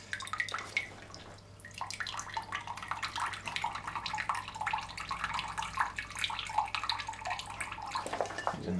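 Water trickles slowly out of a Thirst Aid survival water filter in a faint, continuous, uneven stream with small splashing drips and no talking.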